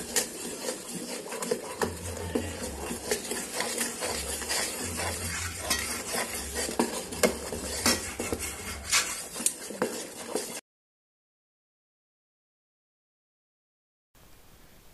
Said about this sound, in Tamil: இப்போ கொஞ்சம் கொஞ்சமாக மாவு போட்டு கிளறிக்கலாம்